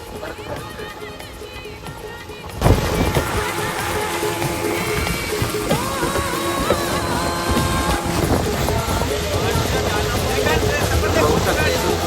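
A boat glides along the Kundalika creek at Agrav in a race practice run, catching the wind. Steady wind rush and water movement continue throughout, with people talking over it.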